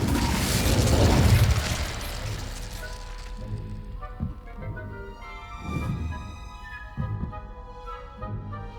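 An Incendio fire spell is cast in Hogwarts Legacy, opening with a loud roaring whoosh of flame that fades into scattered crackles, clinks and soft thumps against a quieter game soundscape.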